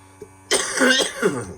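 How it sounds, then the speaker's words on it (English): A single harsh, raspy cough bursts out close by after a brief silence, ending in a rough throaty rattle. "Sorry for all the coughing."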